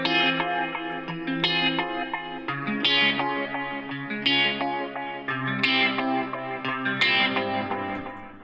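Riff guitar and its bass part play together, with distorted, chorus-treated guitar sounding in repeating phrases of struck chords, moderately loud and alone.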